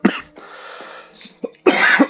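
Several harsh coughs from one person during a GTA V FiveM roleplay session, a burst at the start and a longer pair near the end, loud and close with a steady hiss between.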